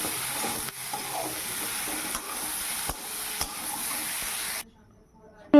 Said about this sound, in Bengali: এই যে আলুটা দিয়ে দিলাম তো এই যে লঙ্কা লবণ হলুদ সব দিয়ে ভালো করে কষিয়ে নেবো